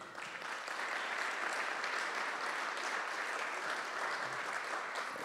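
A conference audience at an esports forum applauds after a presentation, a thick, continuous roar of many hands clapping, strong and steady from start to finish, swelling slightly early on.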